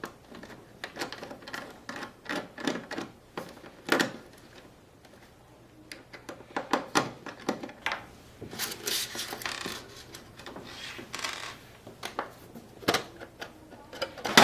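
Four Phillips head screws being worked loose on a small device, a run of scattered close clicks, ticks and light metallic taps at irregular intervals, quiet overall with brief louder knocks.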